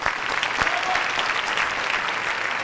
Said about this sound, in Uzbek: Chiroyli qarshilik chalib qo'yinglar.